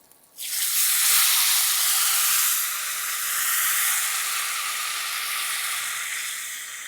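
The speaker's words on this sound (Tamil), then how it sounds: "இப்போ புளி தண்ணி சேர்த்துடலாம்" Tamarind water hits a hot pan with a sudden loud sizzle that settles into a steady, bright hissing and bubbling that gradually eases.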